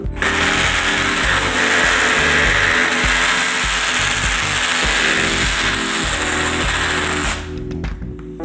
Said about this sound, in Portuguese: Agora com a parafusadeira.